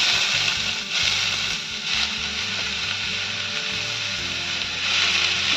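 Watermelon peel fries in ghee with cloves, a steady, close sizzling hiss over faint background music.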